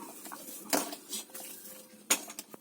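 A utensil stirs sweetened milk in a metal pot, making light scrapes and clinks with two sharper knocks against the side, all fairly close and quiet, with no talking.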